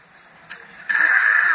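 A short, harsh, rasping cry from a voice, imitating a lion's roar, held for under a second after a brief breathy start.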